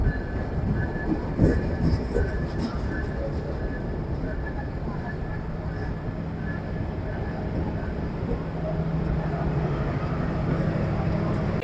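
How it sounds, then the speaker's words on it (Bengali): The intercity Chitra Express rumbles and clatters steadily nearby entering Ishwardi Junction station at night, with a faint tonal squeal and station murmur and occasional voices underneath. "আন্তনগর Chitra express Ishwardi junction railway স্টেশনে প্রবেশ করছে।"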